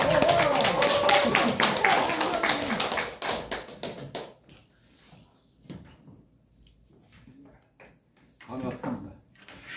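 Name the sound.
audience applause welcoming lecturer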